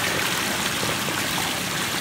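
Water pours steadily over the rocks of a pondless waterfall, a dense, even rush of splashing and babbling with no voices over it.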